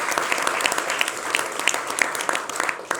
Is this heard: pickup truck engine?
no